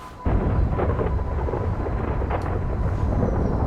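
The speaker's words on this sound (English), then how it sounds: "That was a lightning clap and thunderclap." Thunder rolls in a GTA 5 Online storm, a sudden loud rumbling burst that starts abruptly and sustains a deep, dense roar with faint rain texture for several seconds, no talk.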